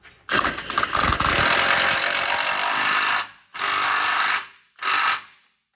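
Impact wrench driving bolts down on a 2009-2014 Ford F-150 during a transmission cooler line job: one long loud rattling burst of about three seconds, then two shorter bursts, close and with no talking.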